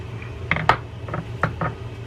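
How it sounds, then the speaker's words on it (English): Axle shaft being slid out of a Penn SpinFisher 650 SSM spinning fishing reel during disassembly: a handful of close, light metallic clicks and scrapes in quick, irregular succession with no talking. "Now we can pull that axle shaft through."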